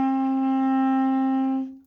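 A single sustained clarinet note, played with the thumb on the hole and the top key, rings steady and clear for under two seconds before stopping, with no talk.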